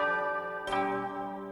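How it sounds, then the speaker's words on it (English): School bell ringing in the video game Last Defense Academy, a single soft chime striking partway through over a steady sustained musical background, fairly faint. "The school bell?"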